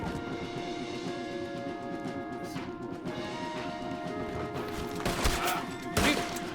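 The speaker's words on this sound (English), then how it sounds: "Stop shooting me!" Scattered gunshots in the western game Red Dead Redemption 2, fairly faint against a busy ambient background, with a couple of sharper, louder cracks near the end.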